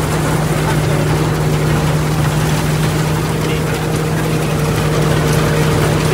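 A water pump engine drives water out of a rice field, a steady loud droning hum with a constant low tone, close by and unbroken throughout.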